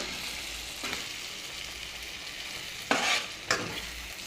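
Small fish curry sizzles softly in a pan, with a few brief scraping stirs cutting through the steady hiss.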